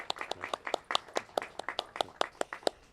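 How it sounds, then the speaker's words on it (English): A small group at an old-fashioned Fourth of July park celebration claps for sponsors, a sparse, quiet run of distinct individual hand claps in a loose steady rhythm. "So a round of applause for all of our sponsors"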